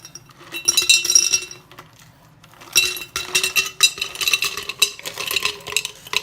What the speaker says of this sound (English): Next, we're going to take some ice and just add it to this cup.